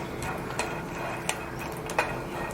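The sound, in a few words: peanuts crackling while dry roasting on a tawa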